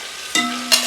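Dried red chillies frying in hot coconut oil, a close sizzle that bursts up twice as they hit the pan, with a faint tonal ring from the pan underneath.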